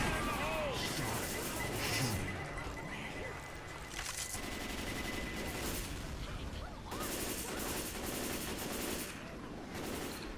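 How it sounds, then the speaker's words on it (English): Gunfire in the video game Left 4 Dead 2 in repeated rapid bursts and crashes, mixed with game effects and a voice talking over the action. "Jump over the gunfire."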